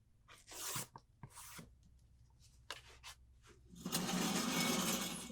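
Scissors or rotary cutter trimming excess fabric from a quilt block's outer border, a quarter inch beyond the sew line; several short close cuts and rustles, then a longer steady cutting swish near the end.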